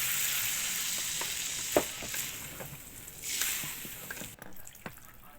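Shrimp-head broth cooking in a pan for pancit palabok, a soft bubbling sizzle with scattered drips and clinks, one sharper knock early on, no speech.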